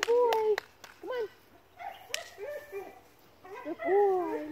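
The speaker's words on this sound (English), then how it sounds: "What a good dog." A dog fetching during a retrieve session yips and whimpers in short, high, wavering bursts. The sounds come in several separate clusters over a few seconds, close and fairly loud, against a quiet outdoor background.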